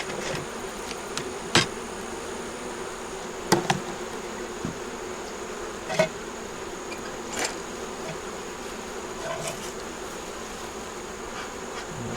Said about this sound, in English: A bunch of bees off here on the side.